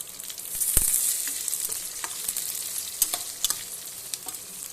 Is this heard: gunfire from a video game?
no